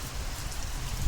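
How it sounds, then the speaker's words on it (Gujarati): Steady rain pours down in a Gujarati village, a close, continuous hiss of drops hitting surfaces with no break. "અને જો વરસાદ હવે ગોરો 24 કલાક ગોરો ચાલુ રહે છે।"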